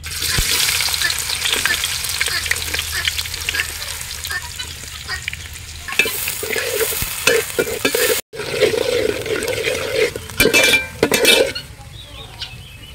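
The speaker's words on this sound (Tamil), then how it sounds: "ஃபர்ஸ்ட் வந்து இந்த வெங்காயத்தை நல்லா வதக்கி எடுத்துப்போம்" Onions sizzle and fry in groundnut oil in a pan while a spoon stirs and scrapes, with occasional clinks of metal utensils against the pot; close and fairly loud, no voices.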